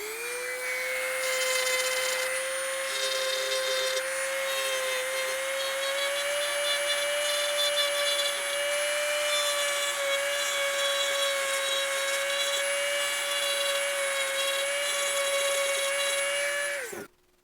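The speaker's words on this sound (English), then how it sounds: "hopefully that gives you a better idea of how I do my Dremel work." Dremel rotary tool engraving a name tag, a loud high-pitched whine with a shifting grinding edge that runs steadily for about seventeen seconds, then cuts off.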